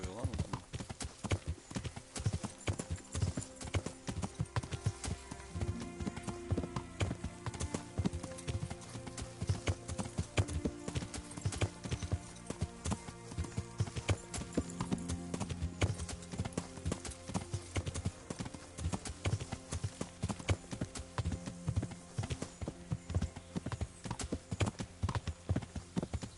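Horse hooves clip-clopping steadily in the medieval video game Kingdom Come, a continuous even trot heard close over faint background game sound.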